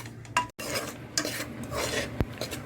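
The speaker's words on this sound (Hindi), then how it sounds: "उसको आप धीमी धीमी आंच पे चलाते हुए अच्छे से भून लीजिए" Wheat flour is stirred and roasted in a pan over a low flame. A steady, soft scraping runs close by, broken by a few sharp knocks of the spoon against the pan.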